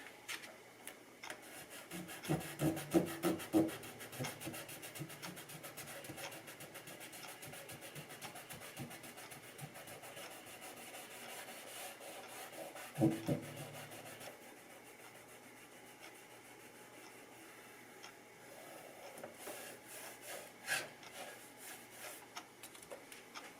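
Fine-grit sandpaper rubs on a guitar's binding during a repair, producing quiet, uneven rasping strokes in short bursts with pauses, close and soft.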